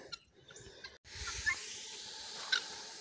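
Sausage cooking in a pot over an off-grid setup, a soft continuous sizzle and hiss with a few faint pops, quiet and close.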